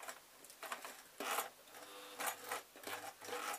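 A sewing machine stitches an off-the-shoulder dress in short close bursts of whirring, starting and stopping several times with brief pauses between runs.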